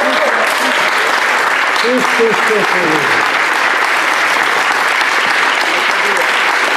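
An audience gives loud, sustained applause at an event about the Paralympic Games, with steady dense clapping and a few voices briefly audible early on.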